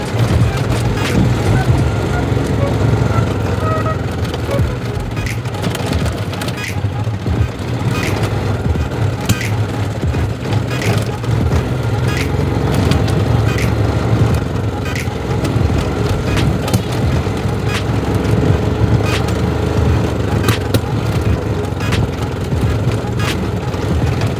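A small carburetted engine runs steadily and loudly throughout, with a rough, uneven idle that suggests the carburetor needs adjustment.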